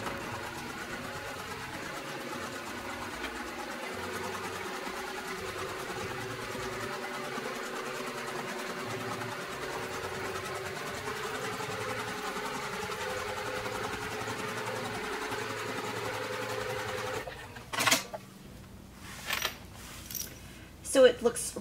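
A sewing machine stitches a vinyl zipper project bag in a steady, continuous run, then stops, leaving a few brief knocks and handling sounds near the end.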